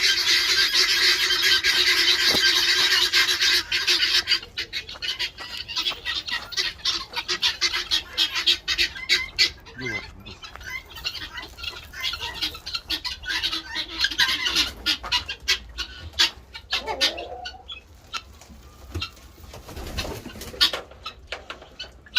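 Bresse chickens on a farm cluck and squawk in a busy, overlapping chorus, loud and close at first, then scattered calls continue amid shuffling movement.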